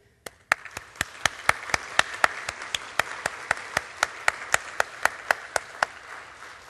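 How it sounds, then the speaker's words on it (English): A small audience at a senior-living planning event claps in a sparse round of about twenty distinct, sharp claps, starting with a few singles and settling into a steady uneven patter for several seconds, with no talking. "Let's give a round of applause"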